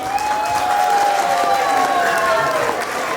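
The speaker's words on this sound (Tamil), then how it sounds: "எல்லாரும் பாராட்டு தெரிவிக்கிறோம்" Audience applause at a Tamil school Pongal festival in Nottingham, sustained clapping from a hall full of people, steady and fairly loud throughout, with a faint tonal hum running beneath.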